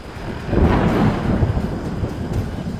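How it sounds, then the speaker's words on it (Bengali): A deep, rumbling thunderclap swells and rolls on for a couple of seconds, heavy low boom with a windy, stormy texture. "কর্কর শব্দে বাজ পড়ল।"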